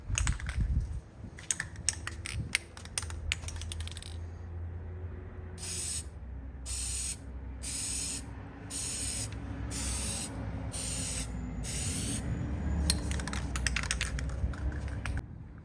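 Spray paint hisses onto a 2023 Honda CR-V emblem in a chrome delete with Shadow Black dip, first in a rapid flurry of short bursts, then in about eight evenly spaced longer passes, close and loud.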